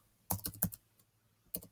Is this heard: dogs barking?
no